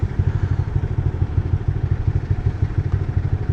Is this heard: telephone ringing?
no